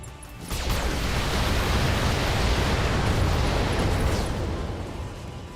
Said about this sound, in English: it may have just cost me Floppy and a mech on a failed ammo explosion